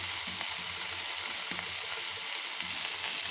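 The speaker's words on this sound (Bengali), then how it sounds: "আর ভেন্ডির ভাজাটা আমি তোমাদের দেখাচ্ছি।" Okra (bhindi) frying in a pan, a steady close sizzle with a few soft stirring scrapes, no voices.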